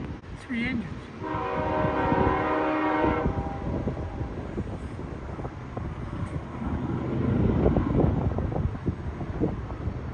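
Freight train hauled by three locomotives sounding a loud horn blast, then rumbling and clattering past steadily, with wind buffeting the microphone and someone speaking briefly.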